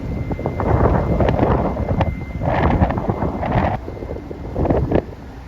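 Strong gusts of wind in Honolulu, Hawaii buffet the microphone in loud rumbling bursts, rising and falling several times over a constant whooshing background.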